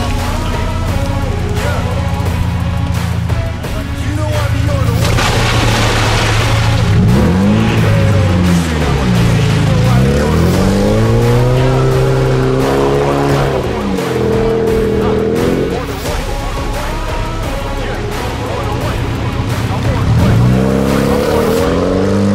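A ZIL-131 truck strains to pull away from a standstill on a muddy off-road track, with a loud, steady engine drone and repeated rising revs.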